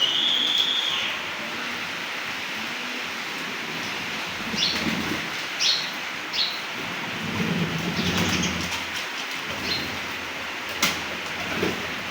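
Steady rain falls and patters on surfaces around a pigeon loft during a thunderstorm, with low rumbles of thunder rolling in several times at moderate distance and no voices.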